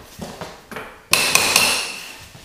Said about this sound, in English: you can hammer it out that way and really lock those planks in